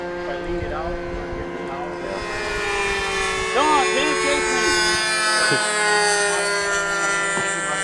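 Fast R/C model airplanes fly overhead with a high, steady engine whine that rises and falls in pitch as they pass and bank, sustained throughout at moderate loudness.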